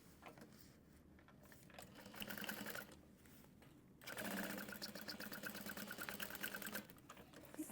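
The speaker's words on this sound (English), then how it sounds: "we'll pinch the layers down to sew along the side seam" A sewing machine stitching along a side seam: rapid steady whirring bursts, close and fairly quiet, with a short pause between two runs of stitching and no talking.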